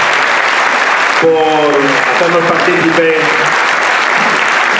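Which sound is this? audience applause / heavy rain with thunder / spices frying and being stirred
audience applause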